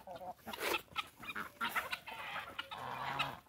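Several chickens cluck and squawk close by in irregular bursts, with faint background noise and no clear talking.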